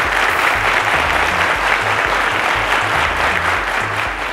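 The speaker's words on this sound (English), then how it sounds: "A round of applause, ladies and gentlemen." A studio audience at a quiz show applauds, dense and loud clapping sustained evenly throughout with no talk over it.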